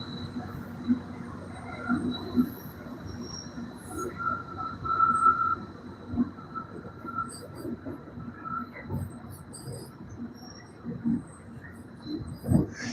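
A train passes at a distance near the Mississippi River, a low steady rumble with faint clatter and a soft horn-like tone, heard outdoors beside faint insects and birds and no talk.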